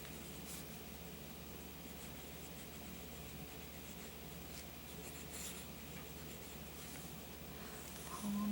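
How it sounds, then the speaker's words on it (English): A TWSBI Diamond 580 fountain pen writes on paper, faint close scratchy strokes over a low steady background hum, no talking. "let's just go ahead and write."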